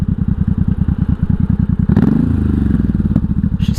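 A 1983 Honda Shadow VT750C motorcycle engine idles close by with a steady, even low thumping pulse, then the note roughens briefly with a clunk and some rattling partway through before it settles back into a quiet idle.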